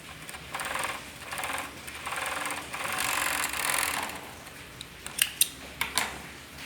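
Sewing machine stitching boxer shorts fabric, running in several steady whirring bursts with short pauses, followed by a few sharp clacks of the mechanism, close and fairly loud.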